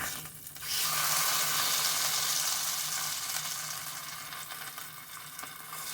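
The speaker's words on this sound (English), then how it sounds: "go around it and just kind of sear that over" A flour-coated pot roast sears in an Instant Pot, a loud hissing sizzle that swells after the first half second and then slowly fades, close by with no talk.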